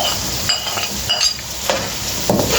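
Onions going into a hot pan of frying food, with a steady close sizzle broken by several short scraping stirs and light clinks as the pieces are tossed, no talking.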